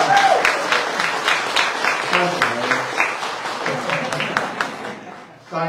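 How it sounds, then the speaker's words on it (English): Church congregation applauding at a Sunday service, a burst of clapping from a crowd in a hall that fades toward the end, with speech over it. "I want us to give Dakota a big round of applause"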